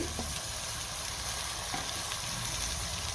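Mutton pieces sizzle and fry steadily in a hot pan of masala, a continuous bright crackle with faint stirring knocks, close and alone with no voices.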